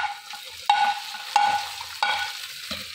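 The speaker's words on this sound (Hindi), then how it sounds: "अब हम करेंगे जी इसमें डालेंगे हम तुड़का" A tadka tempering added to white mutton korma: a quiet sizzle broken by three or four sharp clinks of a spoon against the pot, close by and with no speech.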